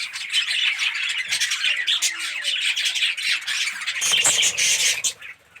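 Pet budgies squawk and chatter loudly and close by, with busy overlapping calls that fill the whole stretch before cutting off near the end.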